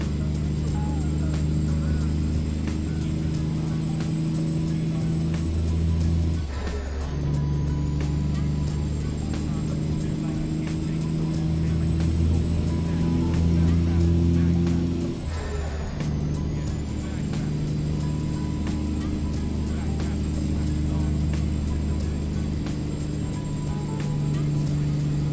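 A heavy-haul truck engine in American Truck Simulator drones steadily while pulling a heavy trailer, a deep rumbling hum topped by a thin, constant turbo whistle that dips briefly twice as the load changes.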